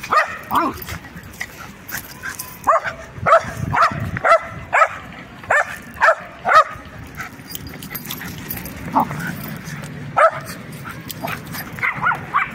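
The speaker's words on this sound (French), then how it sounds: "J'ai l'impression qu'il aime bien aboyer, comme Oreo." A small dog barks in sharp, high yaps, repeated in irregular bursts with short pauses, close by, with some whimpering between barks.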